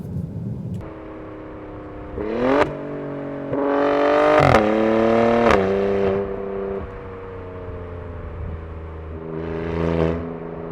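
A 2019 high-performance SUV engine, an Alfa Romeo Stelvio Quadrifoglio or Jaguar F-Pace SVR, holds around 5,000 RPM with a smooth, steady harmonic drone that swells in a few louder surges before settling, heard from inside the cabin with no talking.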